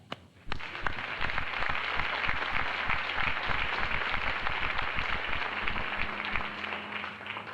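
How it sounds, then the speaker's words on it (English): A crowd applauds at the 1994 MACA awards ceremony, steady dense clapping starting abruptly after a brief quiet moment and holding loud and even for about seven seconds, with no one speaking. "a nice round of applause for our regional rep for SoCan"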